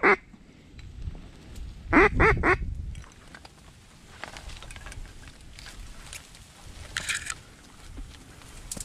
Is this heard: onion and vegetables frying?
no